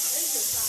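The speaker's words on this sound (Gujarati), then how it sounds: "મારી વાળી બાજુ કુકરની સીટી વાગે." A pressure cooker whistle lets out a loud, steady hiss of escaping steam in a home kitchen, a brief burst heard at close range.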